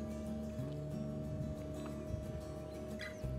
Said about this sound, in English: All right, the blower is on.